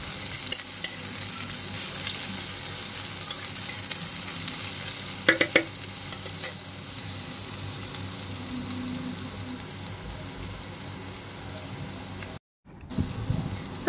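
Chopped onion and green chilli fry and crackle in oil in a pan for a jute leaf dish, a steady soft sizzle with occasional stirring scrapes and no talk.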